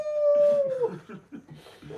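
A person gives a loud imitated howl, a long wavering tone that slides downward, followed by mumbled voices and laughter.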